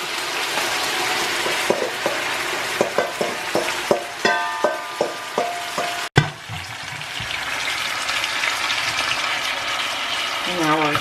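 Homemade pork chili rancho cooks in a hot pan, sizzling under a run of regular scraping strokes as it is stirred. Then comes a sharp clunk, and the frying settles into a steadier, softer bubbling hiss.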